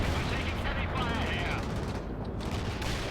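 Gunfire in the World in Conflict strategy game: dense, continuous rattling of distant automatic weapons and explosions under a busy battle din, with voices talking over it.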